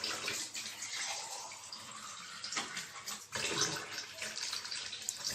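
Tap water runs and splashes over spleen being washed with salt in a kitchen sink, a steady close rush that swells and dips with brief pauses as the meat is turned under the flow.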